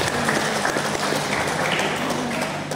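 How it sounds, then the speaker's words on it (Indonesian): An audience at an anniversary education seminar at an Islamic boarding school in Serang claps steadily. The applause is a moderate, continuous patter of many hands, with no voices clearly over it. "Tepuk tangan untuk beliau."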